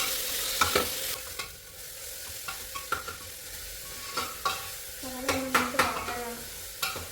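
Onion and tomato sautéing in a pressure cooker for a quick biryani, a soft continuous sizzle punctuated by intermittent stirring scrapes and light metallic taps, close by with no voices.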